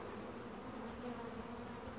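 Honeybees buzzing around several recently split beehives, a steady, dense hum from many insects flying close by, continuous and fairly faint with no voices.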